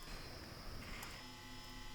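A steady synthesized buzzing tone built from summed sine waves over a fundamental near 93 Hz, rendered in SuperCollider with a small FFT buffer, giving a grainy, smeared texture throughout.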